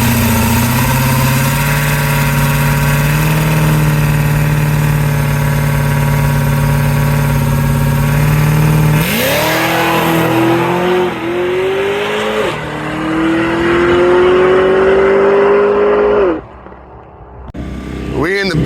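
A drag racing car sits at a loud, steady idle at South Carolina Motorplex, then revs up in several rising pulls and cuts off near the end. Voices are faintly present beneath the engine.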